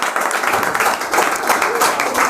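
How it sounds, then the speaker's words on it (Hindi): A group of people claps together in a room, a lively burst of hand claps rising and falling in waves, with voices mixed in underneath. "बोल रहा है इसके लिए ताली बजाओ पहले"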